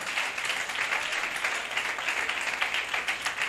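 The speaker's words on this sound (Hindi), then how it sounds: "यीशु मसीह के लिए जोरदार तालियां बजाएं।" Steady applause from a church congregation during a sermon, dense clapping sustained at an even level throughout with no voices over it.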